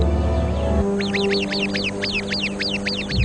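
A sentry bird gives a rapid series of sharp, repeated alarm calls at a viper, about a dozen in quick rhythm, over a low steady background hum.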